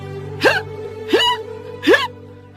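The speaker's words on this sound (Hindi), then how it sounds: "बहुत तेज हिचकी आ रही है" Three loud, close hiccups spaced evenly about two-thirds of a second apart, each a sharp voiced gulp standing alone over a quiet background hum.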